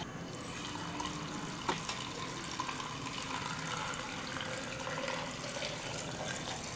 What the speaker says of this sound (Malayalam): ഉപ്പിട്ട് തിളപ്പിച്ച് ആറിയ വെള്ളം അരിച്ചാണ് ഒഴിക്കാൻ പോണേ.